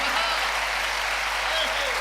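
Steady, dense applause from a large crowd at a Holi-themed kavi sammelan poetry recital in Kolkata, loud and continuous throughout with no break.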